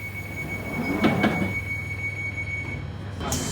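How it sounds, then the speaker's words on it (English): A London Underground Northern Line train rumbles and squeals into a station on the new extension, a low steady drone with a brief metallic screech midway and faint hiss near the end. "Then the train arrived"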